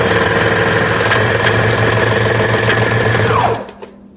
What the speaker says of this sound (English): I already trimmed my serger tails, so you can see it lettuce hemming